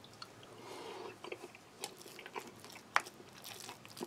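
Close, quiet chewing and crunching of instant mashed potato with carrot, onion and bacon from an Estonian tactical single-meal ration pack, with soft bites and mouth sounds scattered over a few seconds.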